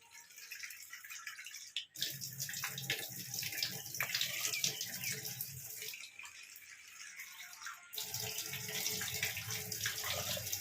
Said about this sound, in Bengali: পরিমাণ মতন জল দিয়ে দেবো। এরম বাটি 4 বাটি মতো জল দেবো।